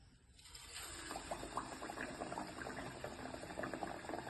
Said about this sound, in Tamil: ஆயில் ஹீட் ஆனதுக்கு அப்புறம் எண்ணெயில போட்டு எடுக்க போறோம்